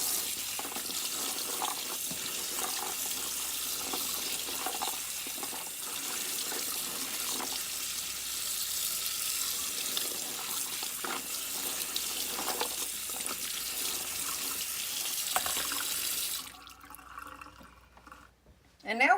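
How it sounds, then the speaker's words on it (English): Cranberries are rinsed under running tap water, a steady close hiss and splash of the faucet lasting most of the time before it shuts off near the end. A voice talks faintly over the flow. "And now we're just going to give them a good rinse to make sure we get them good and clean."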